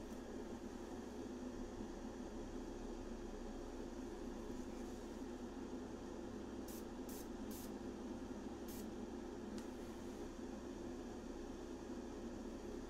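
Steady hiss of a spray can painting firearm parts, a continuous close airy spray lasting throughout at moderate level, with a few faint clicks near the end and no talk.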